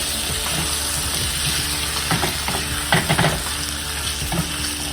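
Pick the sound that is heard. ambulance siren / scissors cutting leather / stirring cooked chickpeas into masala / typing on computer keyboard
stirring cooked chickpeas into masala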